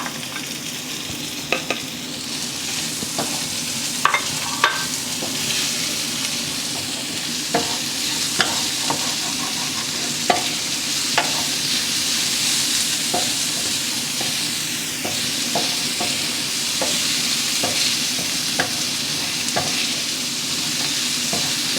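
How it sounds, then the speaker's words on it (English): Chopped onion frying in a pan for chickpea curry, a continuous near sizzle with scattered spatula clicks and scrapes throughout, no voices. "we're going to fry this onion"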